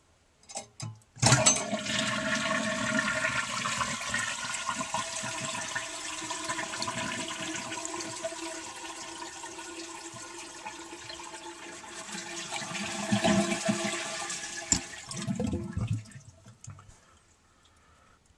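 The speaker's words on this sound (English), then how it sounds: "I'll flush the toilet to empty the tank" A 1948 Standard compact toilet flushes after a sharp lever click, with a long rushing swirl of water that drains away into gurgles and a final clunk, close and alone.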